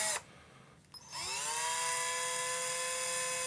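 A cheap Parkside cordless drill fitted with a tap adaptor spins up after a brief start, settling into a loud steady high-pitched whine with a rattling wobble, close and continuous.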